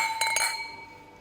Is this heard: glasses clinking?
yes